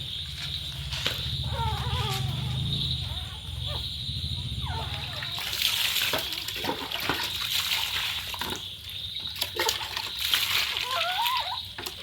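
Water splashes and sloshes repeatedly near at hand as a dog is bathed, with a steady background hiss and occasional voices in the mix.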